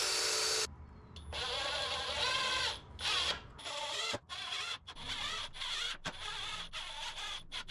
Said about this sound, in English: drilling some pilot holes and then screwing them down